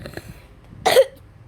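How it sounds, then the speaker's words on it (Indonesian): A single short, sharp cough from a nearby person, briefly breaking the quiet. "Gua sakit batuk kali."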